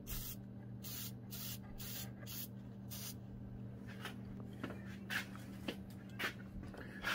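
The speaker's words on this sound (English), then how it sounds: "Shake it simply, just, you know, and spray it." An aerosol can sprays onto a car battery in a series of short hissing bursts, close and fairly quiet, over a low steady hum, followed by faint rubbing noises.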